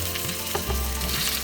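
Chopped carrot, diced potato and cauliflower frying in a pan for vegetable khichdi, a loud, close, continuous sizzle with light stirring scrapes.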